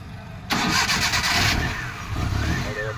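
A Maruti Omni van on a cold morning, running on gas after a faulty switch, cranks and catches abruptly, then settles into a loud, close, slightly rough idle with no talk.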